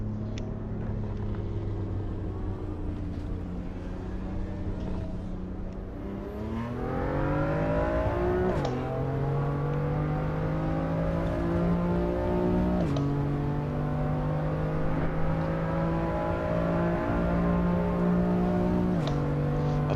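Car engine in the racing video game AC EVO, a steady mid-pitched drone that climbs through the gears in repeated rising pulls with brief shift dips, continuous and without speech.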